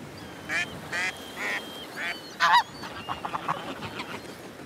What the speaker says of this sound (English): The big male hears the duck,